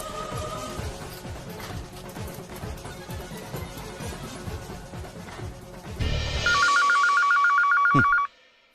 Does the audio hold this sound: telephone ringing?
yes